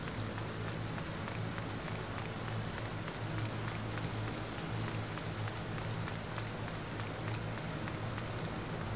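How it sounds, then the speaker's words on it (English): Steady, dense rain in the video game One Piece Odyssey patters continuously on a surface, an even hiss of drops with a low background hum underneath, no voices. "Oh, it's raining."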